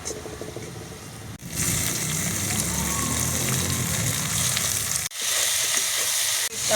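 Onions frying in a pan until reddish-brown for a Marathi tomato chutney, a loud continuous close sizzle with brief stirring breaks and a few soft knocks.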